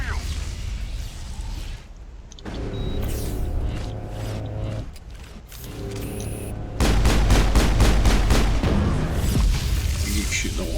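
Gunfire in the game Mass Effect rings out in repeated shots and booming impacts, building to a rapid, loud string of evenly spaced shots near the end.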